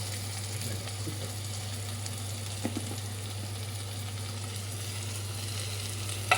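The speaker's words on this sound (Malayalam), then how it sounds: "ഉള്ളി വഴന്നു വന്നു തുടങ്ങി ബ്രൗൺ കളറാവുന്നവരെ" Onion, ginger and green chili fry in a pan for a paneer masala, giving a steady, even sizzle with a low hum underneath and a few faint clicks, and nobody speaks.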